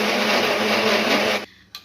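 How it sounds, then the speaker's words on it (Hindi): A mixer grinder grinding masala roars loud and steady at close range for about a second and a half, then cuts off abruptly, leaving a brief rattle as it winds down. "तो यहाँ पर भी हम मसाला पीस"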